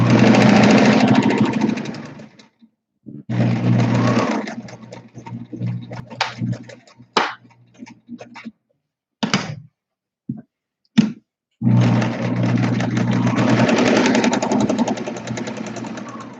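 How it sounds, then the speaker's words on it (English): A sewing machine double stitches a travel pillow, running in loud sustained bursts with a stop of several seconds filled by short clicks and knocks of repositioning before the machine hums again. "I always double stitch everything just to make sure it's really strong and won't ever fail."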